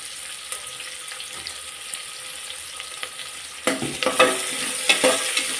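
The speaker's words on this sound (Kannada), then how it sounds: "ಈಗ ಅದಕ್ಕೆ ಕಟ್ ಮಾಡಿಟ್ಟಿರೋಂಥ ಈರುಳ್ಳಿ ಕೂಡ ಹಾಕ್ತಾಯಿದ್ದೀನಿ. ಇದನ್ನು ಫ್ರೈ ಮಾಡ್ಕೊತೀನಿ ಚೆನ್ನಾಗಿ." Chopped onion hits hot oil in a pan, and a burst of crackling sizzle follows, with scraping stirring strokes over a quieter earlier stretch of background hiss.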